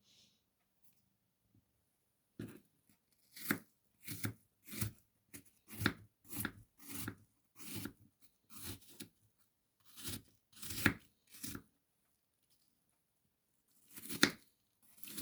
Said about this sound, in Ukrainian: Доки охолоняє наша яєчня із салом, ми наріжемо наші картоплю та яблука